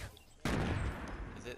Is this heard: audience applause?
no